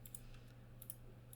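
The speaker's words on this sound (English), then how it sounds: "we want to just press W on our keyboard" Quiet keystrokes on a computer keyboard, the W key being pressed, come as a few faint separate clicks over a steady low hum.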